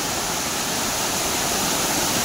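Constant roar of a forest waterfall near Ratnagiri in the Konkan, a loud, steady broadband rush of falling water heard close up with no voices.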